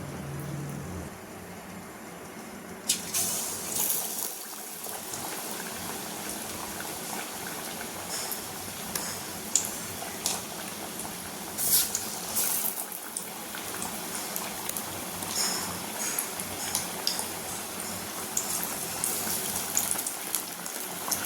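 Sliced raw plantain for bajji frying in hot oil, a dense, steady bubbling hiss that swells after a quieter opening and runs on evenly, close, with faint clinks.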